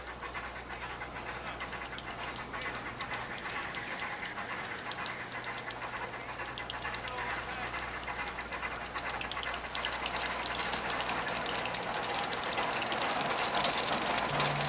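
A steam-powered Lombard log hauler, a tracked steam locomotive with a steerable sled, runs in the distance beyond the trees, giving a steady broad hiss and rumble that grows slightly louder over time, with no talking.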